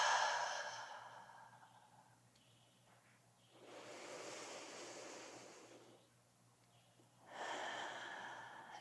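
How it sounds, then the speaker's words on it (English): Slow, soft breathing during a yoga stretch session, with a long airy exhale, a pause, a fuller breath lasting about two seconds and then another begun, close and quiet in a still room with no talking. "Breathing in through the nose and out through the mouth."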